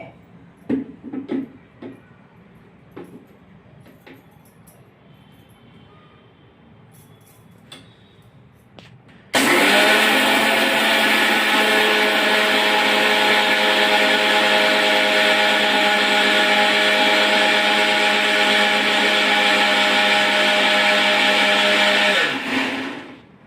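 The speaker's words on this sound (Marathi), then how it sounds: "चार वाट्या ज्वारीला एक वाटी डाळ घालणे आता आपण बारीक करून घेणे" An electric mixer grinder grinds soaked sorghum and urad dal, starting abruptly after some quiet clicks and handling noises, then running as a loud, steady whirring drone for about fourteen seconds before stopping.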